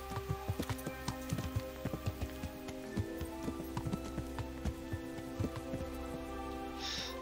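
Horse hooves clip-clop in a steady, repeated rhythm in the medieval game Kingdom Come: Deliverance, near and clear over a constant low ambient hum, with a faint whinny-like sound late on.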